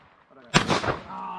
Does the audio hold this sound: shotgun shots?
yes